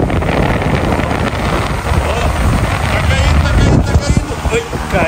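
A large Aloha Breeze fan blasts strong wind, producing a loud, steady roaring rush of air close to the microphone with buffeting gusts, while people talk and shout over it.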